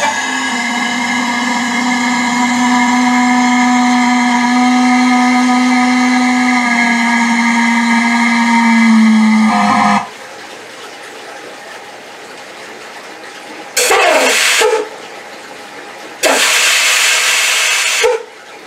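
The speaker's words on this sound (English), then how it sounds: "I'll leave you with the incredible sound of steam release." Steam vents from a homemade DIY boiler as a loud, steady whistling hiss with strong tones for about ten seconds, then cuts out, followed by two shorter bursts of rushing steam hiss separated by quiet gaps.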